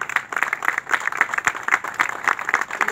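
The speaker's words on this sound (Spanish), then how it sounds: "Fuerte el aplauso" Audience applause at a municipal event in Arroyito, a steady patter of many hands clapping at close range, fairly loud and continuous with no talk over it.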